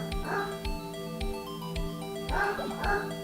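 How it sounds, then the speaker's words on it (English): Short, yappy dog barks from the Phoenix Wright: Ace Attorney video game, repeated several times in bursts over a steady musical background. "that dog"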